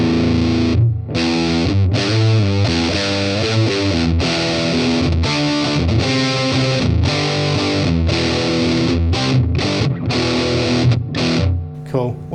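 An electric guitar plays through a heavy fuzz pedal set all the way up into a Tonex One, thick and saturated with sustained buzzing chords and riffs, loud and continuous.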